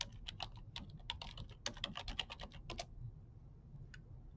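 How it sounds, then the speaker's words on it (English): Computer keyboard being typed on in a quick burst of clicks for about three seconds, then stopping, with one last isolated keystroke after a pause; the sound is fairly quiet and close, with no speech. "We'll type in the same date."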